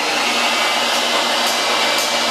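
Craftsman table saw fitted with a stock blade running steadily after being switched on, a loud, even broadband whir with a faint high whine, no talk over it.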